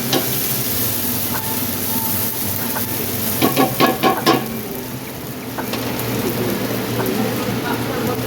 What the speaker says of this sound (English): and my garlic in there. I'm gonna let that saute a little bit.